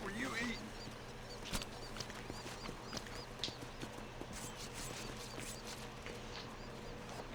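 Horse hooves clip-clopping in the Western game Red Dead Redemption, a steady rhythmic trot of a wild horse at moderate distance, fairly faint under a wide ambient bed of outdoor noise.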